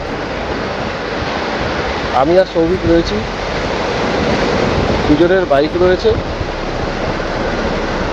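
Steady surf rolls on quiet, secluded Bagda beach in Odisha, a constant broad wash of waves under wind. Someone speaks twice over the surf.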